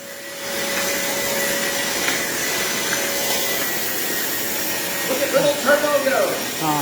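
Household vacuum cleaner runs with a steady, loud droning whine and hiss throughout, while someone talks over it near the end.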